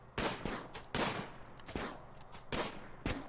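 Gunshots from the video game Vanishing, a sharp, evenly spaced burst of about six loud reports, each with a short decaying tail.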